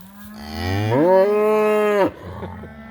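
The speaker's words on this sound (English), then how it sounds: "Cows are very vocal right now. You gotta go find your calf. She's bawling for her calf." A cow on pasture lets out a loud, close, drawn-out bawl, calling for her calf with a rising then steady moo that cuts off sharply.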